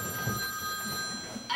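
An electronic telephone ring, used as an effect in a reading of The Lorax, sounds as steady sustained tones for the whole moment over a faint low background murmur.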